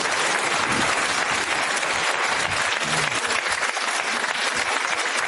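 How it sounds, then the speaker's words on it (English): An audience at a morning event applauds steadily, a dense, loud wash of clapping hands from a sizable crowd that holds at an even level throughout without pausing. "Give him a round of applause, Stephen Young."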